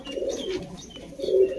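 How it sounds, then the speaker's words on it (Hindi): Two brief, low pigeon coos sound nearby, one at the start and another near the end, soft and alone. "ये कबूतर है जी, देखो गाइस।"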